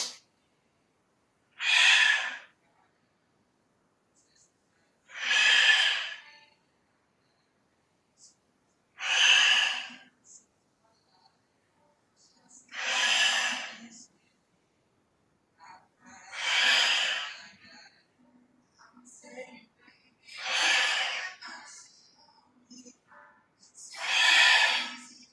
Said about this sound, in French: J'expire, j'inspire.